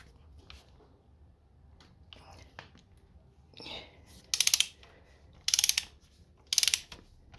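A ratchet with a 16mm spark plug socket works loose the plugs on a Mazda MX5, giving three sharp bursts of rapid clicking near the end after quieter handling and faint clatter.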